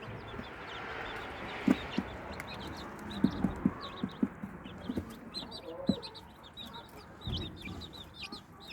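A hen clucks in short, scattered bursts against a quiet outdoor background, with faint chirping birds nearby.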